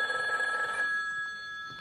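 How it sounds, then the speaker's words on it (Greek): A telephone bell rings on stage during a Greek theatre comedy, a bright electronic trill that stays fairly loud for under a second and then cuts off into faint room tone. "Τηλέφωνα. Ναι."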